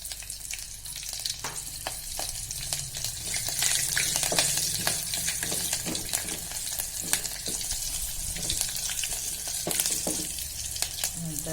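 Green cardamom, curry leaves and two green chillies spit and crackle in hot oil for a vegetable pulao, a loud continuous sizzle dotted with sharp pops, with no voices.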